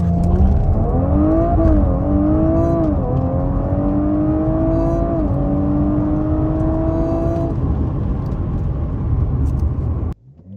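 A stock Audi RS5 B9 Carbon Edition with a 2.9L twin-turbo engine of about 450 bhp accelerates hard from a launch-control start, its loud engine rising in pitch through several gear shifts before the sound cuts off abruptly.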